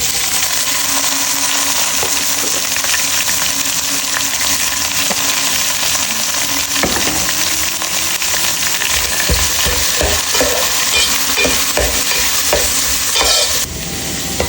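Onion, curry leaves and coconut fry in a pan while being stirred, a loud continuous sizzle with scraping spatula strokes and clinks building in the second half, no voices.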